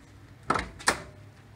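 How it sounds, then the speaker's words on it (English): Door of a 1970 LS6 Chevelle convertible barn find opening, two quick close metallic clicks and clunks from the latch and hinge, heard alone at close range. "We're going to open this door"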